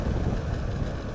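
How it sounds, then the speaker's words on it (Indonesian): Strong wind buffets a camera microphone, a loud, dense low rumble that runs continuously without any voices. "ini suara anginnya sangat kencang nih"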